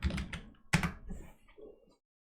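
Keys clatter on a computer keyboard in a quick burst of typing, then a sharp louder keystroke and a few softer scattered taps before silence, close and clear.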